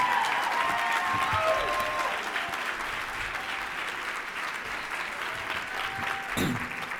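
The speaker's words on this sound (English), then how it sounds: "Let's give her a round of applause." Steady applause from a conference closing-session crowd fills the whole clip, a dense, even clatter of clapping hands that stays fairly loud throughout.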